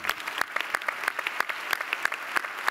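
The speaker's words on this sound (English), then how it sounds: "All right, a round of applause for the technology pioneers." Audience applause at a technology innovation plenary session, a steady patter of many hands clapping with no voices over it.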